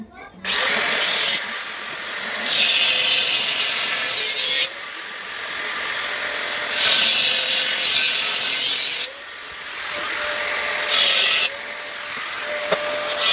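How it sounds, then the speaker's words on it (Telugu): Zinc pipe being cut along a marked shape for a 4×6 bed frame, a steady harsh grinding or sawing noise running the whole time in loud stretches with brief dips between passes, no talk over it. "ఇప్పుడు నేనైతే ఆ మార్కింగ్ ఎలా ఉంది ఆ షేప్ ప్రకారం అయితే కటింగ్ చేస్తున్నాను"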